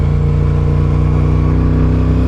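A Ducati Panigale V2 motorcycle engine drones loud and close, a steady deep mechanical hum with a faint lift at the very end.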